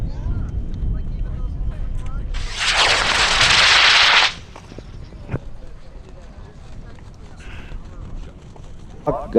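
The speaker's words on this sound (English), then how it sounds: "Goblin, 8-foot rocket. It's got a K550 in it, stratologger with dual deployment." An 8-foot Goblin high power rocket with a K550 motor ignites at a desert launch event, a loud roaring burst lasting about two seconds over background chatter and outdoor noise, then fading away as people talk.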